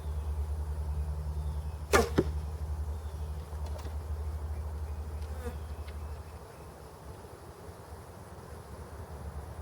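A vintage 1959 Bear Archery Kodiak Special bow looses an arrow with one short, sharp snap and a quick follow-up thud, quiet overall, over a steady low outdoor hum.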